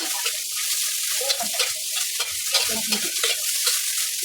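Kimchi fried rice frying in a pan, a continuous close sizzle with frequent scraping stirs of the spatula, no voices.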